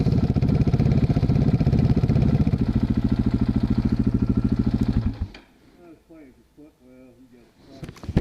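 GPX MOTO FSE 450R motorcycle engine idling close by with a steady rapid thump for about five seconds, then cutting off into quiet with speech over the top.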